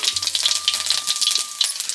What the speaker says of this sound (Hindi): एक आगे तड़का दे देते हैं।